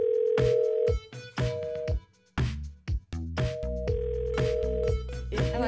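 A phone-themed musical passage mixes electronic telephone tones and dial-like beeps in loud, punchy bursts separated by brief gaps, with sustained tonal notes and layered synth hits.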